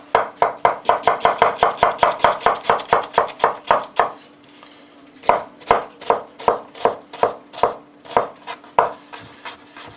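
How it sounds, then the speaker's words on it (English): A knife chops small onions on a cutting board for jambalaya, with fast loud even knocks in a long run, a short pause, then a slower steady series of firm strokes. "Doesn't have to be that fine, but we're just chopping it a little bit fine."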